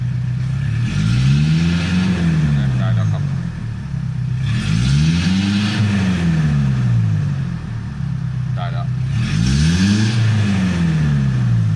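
A Ford Ranger engine revs repeatedly after starting, rising and falling in three steady sweeps, loud and close, with a steady idle between them and faint talk in the background.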